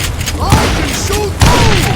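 Gunshots in the Western shooter Call of Juarez Gunslinger, two loud booming shots about a second apart, punching over game music and a speaking voice.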